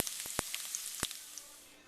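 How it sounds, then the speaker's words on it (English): Pork cracklins crackle as they fry in rendered fat, with a few sharp pops over a faint steady sizzle that tapers off, close by and fairly quiet with no talking. "Stir it around a little bit, and then let it have a minute or so just to try to eke out a little bit more of that fat and make it nice and crispy."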